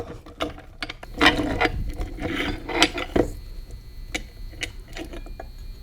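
Metal shift forks are worked out of a disassembled Dana 300 transfer case, producing close, scraping clanks and ratcheting rattles in a few short bursts, followed by scattered clicks and taps.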